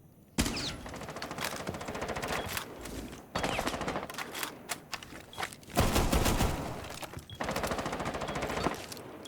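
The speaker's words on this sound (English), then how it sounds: "Guy's just shooting." Automatic rifle fire in Rainbow Six Siege on console, several long rapid bursts of closely spaced shots separated by short gaps, loud and sharp throughout.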